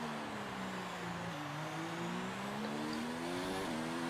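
A Formula 1 race car engine in F1 2019 holds a steady, high-revving drone with slight pitch dips at gear changes, continuous and close, with no talk.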